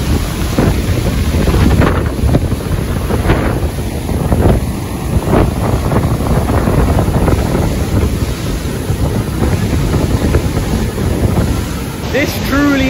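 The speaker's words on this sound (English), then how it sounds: "it's so windy for some reason as soon as you step on the bridge as well" Strong wind buffets the microphone on a rickety bridge over a rapid river in the Sok Valley near Upper Kachura Lake, with loud, steady rushing water filling the background throughout.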